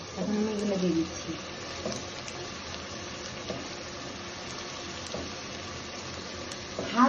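Ginger-garlic paste hits hot oil in a pan for duck masala, giving a burst of sizzling at first that settles into a steady, close frying crackle, rising again briefly at the end.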